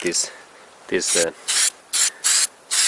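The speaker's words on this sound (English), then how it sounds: "I have in here this spray, black spray, what I am planning to insert, and I am planning to paint" Black spray paint is sprayed onto a repaired rubber hose from a Toyota car. Several short hissing bursts, each under half a second, come in an uneven rhythm from close by, with brief rubbing sounds between them.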